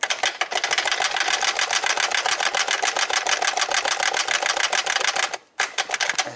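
Rapid, sharp metallic tapping on a 13 mm socket seating a PCV valve under a coolant hose in a car engine bay, a fast even rattle of hits close by with a brief pause near the end.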